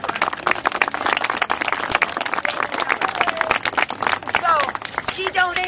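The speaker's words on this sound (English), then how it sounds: "Can we give her a round of applause?" A crowd gathered for a Christmas reading-room dedication in Ossian claps in a round of applause, lively and fairly close, with murmuring voices and chatter mixed in near the end.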